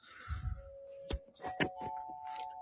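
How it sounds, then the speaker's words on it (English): Wind chimes ring in a few bright, scattered strikes with lingering tones, faint and fairly close, over a quiet background. "It's the wind chimes."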